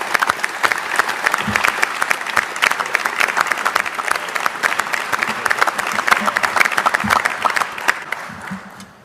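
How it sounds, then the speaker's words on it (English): An audience at an NBA draft press conference for the Detroit Pistons applauds new young players, a sustained round of crisp, distinct claps that stays strong for about nine seconds before tapering off, with no talking over it. "Let's give these youngsters a round of applause."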